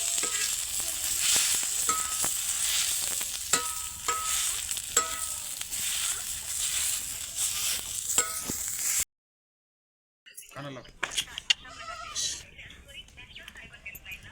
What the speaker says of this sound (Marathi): थोडंसं तेल टाकून चांगलं परतून द्यायचा कांदा